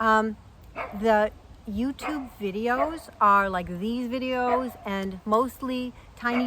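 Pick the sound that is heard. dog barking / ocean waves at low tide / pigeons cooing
dog barking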